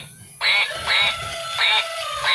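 A duck quacks in four loud, nasal bursts spaced roughly half a second apart, close up, with no talking.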